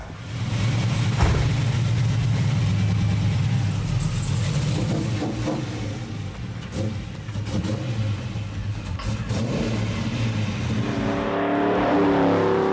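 A car engine runs loudly and close, rumbling steadily with some revving swells, continuing throughout without speech.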